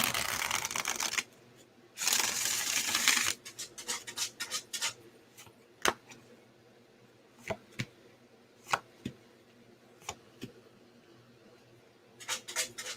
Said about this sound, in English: I'm shuffling right now.